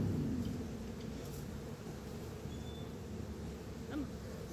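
Honey bees buzz softly around a beekeeper's hive in autumn, a faint steady drone with a few closer passes, no voices.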